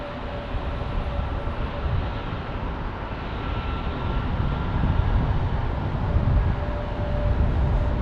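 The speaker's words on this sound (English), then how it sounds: "FedEx 767 inbound from Memphis." A FedEx Boeing 767 airliner arriving at Minneapolis airport from Memphis gives a steady, broad jet roar that swells slightly louder toward the end, a continuous distant rumble with a faint whine, no talking.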